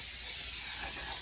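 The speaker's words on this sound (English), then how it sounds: "You're going to spray glue." Spray glue hisses from an aerosol can in one short, steady burst, close by, applied to the foreground of a model display build.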